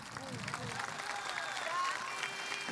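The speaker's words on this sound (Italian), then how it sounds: "datemi due mani ciascuno per fare un bellissimo applauso a Peppino Bande" Applause from a live event audience in Carbonia, Italy, for a performer named Peppino Bande, a moderate continuous patter of clapping with faint tonal sounds over it.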